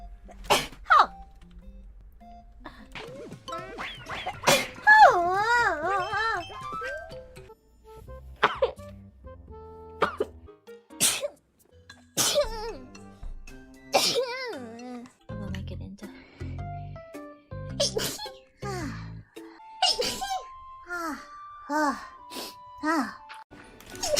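Sneezes from several women, one after another across the stretch, sharp bursts separated by pauses, mixed with sighs, throat sounds and short vocal noises.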